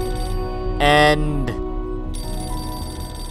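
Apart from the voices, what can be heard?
telephone ringing in video game Beholder 2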